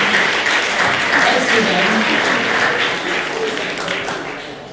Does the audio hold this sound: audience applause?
yes